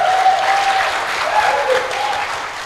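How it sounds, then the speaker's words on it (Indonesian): A church congregation at a Pentecostal Christmas service applauds together, a dense steady clapping that fills the hall and fades slightly toward the end. "tepuk tangan bagi Tuhan"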